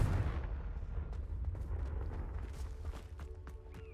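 Confringo fire spell explosion in the video game Hogwarts Legacy, a heavy rumbling blast that trails off into crackling debris and scattered pops, loud and close.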